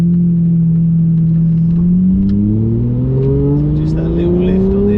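A Lamborghini Murcielago LP670-4 SV's engine climbs steadily in pitch under acceleration, a loud droning tone rising through the gears with a brief lift as the driver changes up, heard from inside the car.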